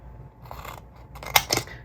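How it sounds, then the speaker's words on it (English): Scissors snip and trim a scored paper treat holder to miter its top edge, giving a few short, close crisp cuts with light paper rustle and no talking. "I am just going to take my scissors and miter this."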